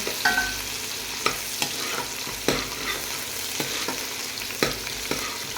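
Garlic, cumin and ginger fry in mustard oil for a tempering, a continuous close sizzle punctuated by regular spoon strikes and stirring scrapes against the pan.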